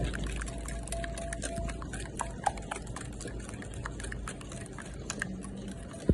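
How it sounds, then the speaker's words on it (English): Granulated sugar is stirred in a bowl, producing a continuous gritty scraping with small rhythmic clicks and taps of the utensil against the bowl, close up and fairly quiet. "Mix sugar well because it is a granulated sugar, so mix well."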